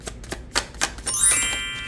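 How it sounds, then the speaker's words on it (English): Tarot cards shuffled by hand for a reading, a few quick papery riffles and taps, followed by a bright ringing chime that lingers. "let's get the shuffling."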